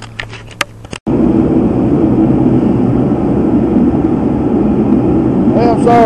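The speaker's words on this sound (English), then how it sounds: "I had to keep my little heater on." A small heater runs in a cool workshop as a loud, steady broadband whoosh after a few brief knocks and clicks at the start, holding evenly to the end.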